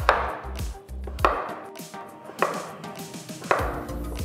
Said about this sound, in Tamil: மீடியம் சைஸ் பீஸஸை கட் பண்ணி வைங்க.